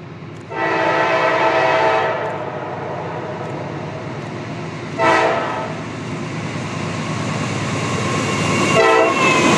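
CSX freight train on the Mohawk subdivision rolling past, with a loud horn blast near the start and shorter horn bursts later over continuous rail rumble and wheel noise.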